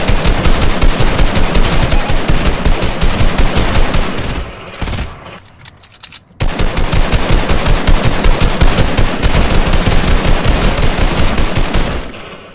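Fortnite gunfire, loud rapid automatic bursts that fire almost continuously, briefly pause for about a second midway, then resume at full intensity to the end.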